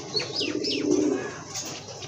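Large pet pigeons kept for sale coo in a soft, throaty rolling call, close by, with a few thin chirps and rustles mixed in over a low background murmur.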